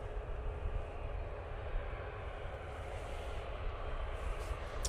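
Ryanair airliner at Manchester Airport, bound for Oslo, a faint, steady distant engine roar that stays even and continuous throughout.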